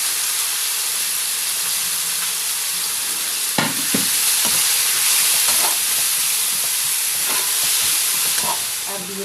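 Onion, tomato paste and green chilli fry in a pan for a rohu fish curry, a loud, steady sizzle and hiss with occasional clinks and scrapes of a spoon stirring, close up and without speech.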